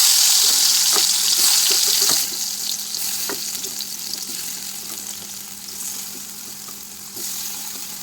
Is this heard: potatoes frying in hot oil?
yes